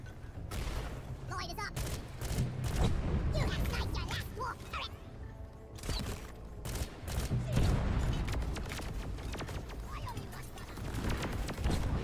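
Sniper fire and other gunshots burst repeatedly in the co-op video game Deep Rock Galactic, with sharp cracks and booms over a dense, busy battle din, with a voice talking underneath.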